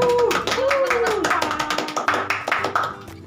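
An audience claps for a guest being welcomed at a university event, the sharp, uneven claps mixed with voices talking and calling out over a few seconds.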